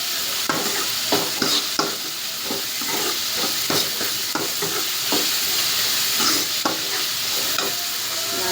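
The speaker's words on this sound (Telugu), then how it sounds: "ఇలా బాగా ఆయిల్లో ఫ్రై చేసుకోవాలండి" Food fries in hot oil for a dry fish curry with black-eyed peas, a dense, steady sizzle broken by regular scraping stirs of a spatula, close and fairly loud with no talking.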